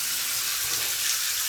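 Tap water runs steadily for hand washing, a continuous close hiss of flowing water with no voices.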